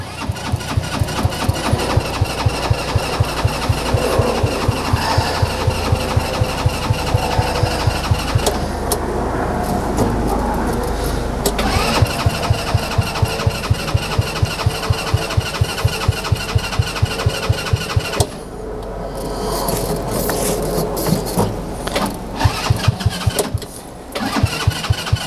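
A Trail Wagon TW200 UTV runabout engine cranks and fires on a breezy day, running with a loud, steady rapid pulsing idle that stutters and dips briefly before catching again, with no talk over it.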